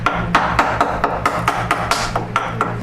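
Steady chisel chops ring out as waste wood is cut away on a Chapin high chest, roughly four sharp woody knocks per second, close and loud with no talking.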